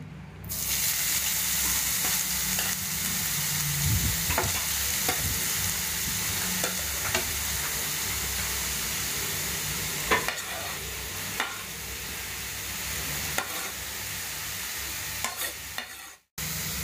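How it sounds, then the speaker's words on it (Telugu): Carrots frying in the same pan used for cashews and raisins, cooked slowly on low heat for carrot halwa: a steady close sizzle with occasional stirring scrapes throughout, no talking. "అదే బాండీలో క్యారెట్ వేసుకొని వేపుకోవాలి"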